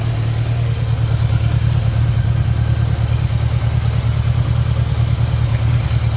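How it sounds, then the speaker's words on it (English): A budget bobber motorcycle idles close by with an exhaust leak, its steady low engine thump running with a rapid ticking, chuffing rhythm, loud and unbroken, with no talking. "The exhaust leak is driving me nuts though."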